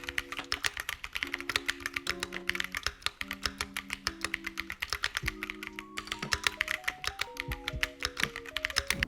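Steady typing on a $200 premium mechanical keyboard, crisp and even keystrokes in a continuous rapid rhythm, with soft background music playing beneath.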